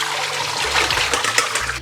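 Blanched vegetables being drained, with water pouring and trickling steadily close by for a couple of seconds and a few brief splashes near the end.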